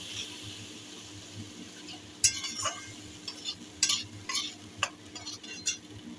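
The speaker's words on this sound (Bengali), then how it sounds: "এবার আমরা মশলাগুলোকে ভালো করে নাড়াচাড়া করে মিশিয়ে নিচ্ছি" Spices, including a little red chilli powder, stirred and mixed in a pan for a poppy-seed kalia, with soft scraping and intermittent clinks of a utensil against the metal over a faint low sizzle.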